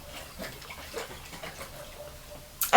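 A lidded bottle of water infused with tea for cold brew is shaken, producing faint, rhythmic sloshing that ends in a louder knock.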